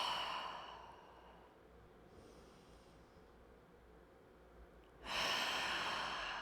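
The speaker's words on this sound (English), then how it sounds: "Don't be shy about those breaths. Really make some noise. It can be so therapeutic to do those big exhales." During a gentle yoga session, a deep, drawn-out exhale is heard fairly close, fading through a quiet pause before a sharp, breathy in-breath begins near the end.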